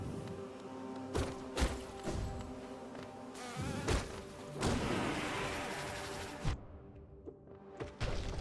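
Insect-like buzzing from bee enemies in the video game Hollow Knight, a steady drone layered with game music and punctuated by several sharp thuds and bursts, one fizzing swell midway, with no talking.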